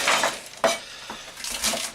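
A kitchen knife chopping spring onions on a board, sharp irregular taps and thunks close by with short scraping gaps between strikes.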